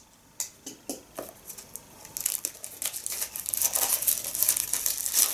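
Plastic film wrap being cut and peeled off a manga tankōbon, starting with a few sharp separate snips or crackles, then building into dense, continuous close-up crinkling toward the end.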